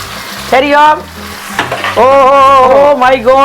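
Tomatoes hit hot oil in a pan for chicken biryani, giving a loud, close, continuous sizzle with stirring scrapes, while someone speaks over it.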